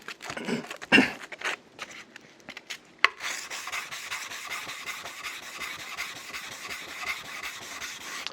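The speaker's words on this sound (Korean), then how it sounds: "이 사포하는 소리도 마찰되어지는 소리가 그만큼 줄어든 거죠" Fine 600-grit sandpaper rubs back and forth over a surface in a steady, soft rasping rhythm, fairly quiet and close, after a few louder knocks and scrapes at the start.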